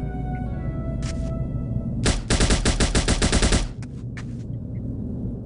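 Rapid bursts of 9mm gunfire ring out in the shooter No One Lives Forever, a quick string of loud, evenly spaced shots over a steady background hum, with a couple of lone shots before and after the volley.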